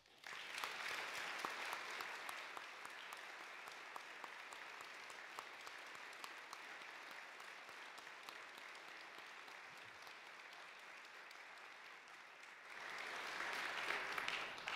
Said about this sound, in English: why don't we give them a big round of applause.